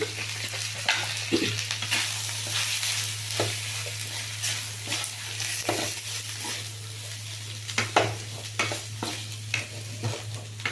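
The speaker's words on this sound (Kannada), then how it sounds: "ಈಗ ಇದೆಲ್ಲ ತುಂಬ ಚೆಂದ ಫ್ರೈ ಆಗಿದೆ" Spices frying in a pan after three spoons of coriander powder go in for an eggplant gravy, a steady sizzle broken by repeated scraping stirs, with a low hum running underneath throughout.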